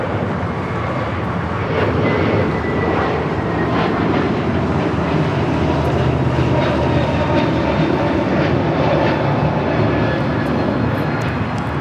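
A Spirit Airlines airliner passes at Los Angeles airport, a loud, full engine roar sustained across the whole stretch with steady intensity, close by and alone without voices.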